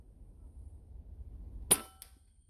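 A .177 Gamo air rifle fired at a laptop in freezing 14-degree cold: one sharp, loud crack, then a shorter second impact, after a quiet outdoor lead-in.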